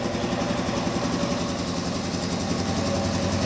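A Suzuki DRZ400S motorcycle single-cylinder engine runs steadily in first gear with a hydraulic clutch, a close, even, rapid thumping idle without pauses.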